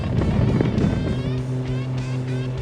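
A2A Aerostar 600 twin-engine aircraft in Microsoft Flight Simulator lifting off, a steady loud engine drone with strong low harmonic tones and rising whine, continuous throughout, no talk.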